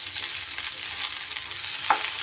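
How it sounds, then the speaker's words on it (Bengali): Whole spices frying in a pan for a dhaba-style bhindi masala, a steady dense sizzle with no talk and one brief clink of a stirring utensil near the end. "এইবার একটু সব রকম মশলাগুলো একটু ভাজা ভাজা করে নিতে হবে।"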